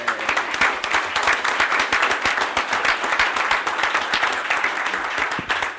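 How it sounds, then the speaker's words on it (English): Students receive a sustained round of applause from the crowd at a regular commission meeting, steady dense clapping throughout with many hands, fairly close and even in loudness. "give all these students a big round of applause, please"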